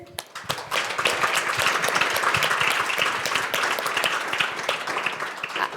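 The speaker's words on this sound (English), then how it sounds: "if you could join me for a big round of applause to our panelists here" Live audience applauding the panelists at a main stage event: dense, steady clapping from a large crowd that swells quickly and holds at full strength throughout, with no talk over it.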